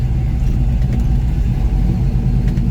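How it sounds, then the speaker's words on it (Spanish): A Chevy pickup truck engine with its exhaust valve open rumbles steadily at close range, a deep, throaty idle with a constant low growl and no voices. "voy a abrir la válvula del escape para que cambie el sonido de la camioneta"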